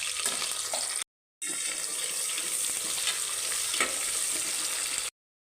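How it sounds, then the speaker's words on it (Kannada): Onions and green chillies frying in oil for a palak pulao give off a steady, hissing sizzle at close range, briefly cut off once, with a faint clink of stirring. "ಈರುಳ್ಳಿ ಫ್ರೈ ಆಗಿದೆ"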